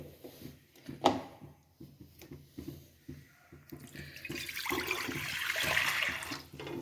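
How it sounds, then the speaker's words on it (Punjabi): After a few soft knocks and clatters, water rushes into a kadai to cook rice for dum biryani, building to a loud, steady gushing stream in the second half. "ਇਸ ਵਿੱਚ ਪੰਜ ਗਲਾਸ ਪਾਣੀ ਪਾਵਾਂਗੇ ਮਤਲਬ ਇਸ ਵਿੱਚ ਡਬਲ ਪਾਣੀ ਪਾਵਾਂਗੇ"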